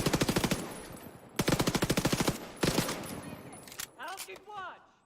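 Three rapid bursts of SMG fire in The Division 2, loud and close with sharp repeating shots, followed by a voice speaking as the shooting stops.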